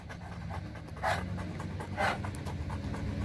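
Big dog panting steadily close by in rapid rhythmic breaths, with a couple of louder, harsher breaths standing out, while the dog settles and relaxes after pulling training.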